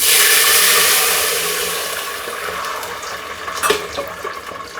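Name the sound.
pouring water into pot for basmati jeera rice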